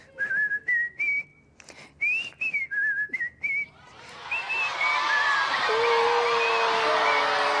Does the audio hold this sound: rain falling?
no